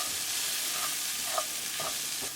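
Corn masala with fresh lemon juice is mixed in a pan off the heat, a steady soft sizzle broken by a few gentle scrapes of a spoon.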